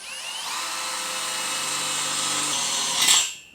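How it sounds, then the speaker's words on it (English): Small drill bit pre-drilling a pilot hole in metal during homestead welding work, a steady continuous whine with no talk, rising briefly near the end as the bit finishes and then spinning down. "And then I'll pre-drill just with a little drill bit here."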